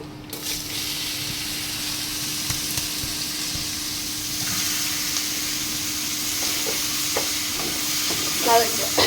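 Bottle gourd tipped into hot oil over a fried tempering for a Bengali gourd-and-prawn curry, giving a steady close sizzle with stirring and scraping, rising slightly near the end.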